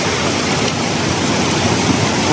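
Water pours over a waterfall and rushes along a river inside the Sótano de la Lucha cave in Chiapas, a loud, unbroken roar of broadband rushing water with no voices.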